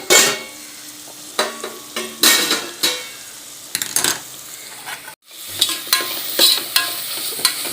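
Beef gravy being sautéed in a pan, with a spoon scraping and stirring in bursts over a steady sizzle, close and fairly loud, with a brief pause before the stirring resumes.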